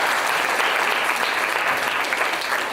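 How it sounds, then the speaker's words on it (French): An audience of students at an excellence day ceremony gives steady, full applause. The dense clapping holds at a constant level for its whole length with no voices on top. "Est-ce que vous pouvez l'applaudir"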